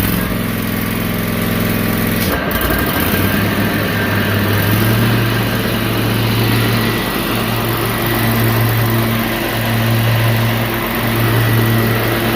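A riding lawn mower engine runs loud and close with a steady rumbling drone, and a clunk early on as the blade is lowered, after which the tone throbs in a slow, regular pulse.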